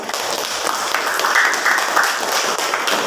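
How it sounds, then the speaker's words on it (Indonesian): A classroom of students gives a presenting group a round of applause, a dense, steady patter of many hands clapping close by for about three seconds. "Jadi tepuk tangan sekali lagi untuk kelompok 3."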